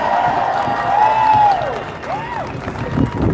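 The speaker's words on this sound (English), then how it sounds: "So let's give them a huge round of applause." A crowd at a Colorado rally against Project 2025 claps and cheers, with rising whistle-like shouts riding over steady applause for a few seconds.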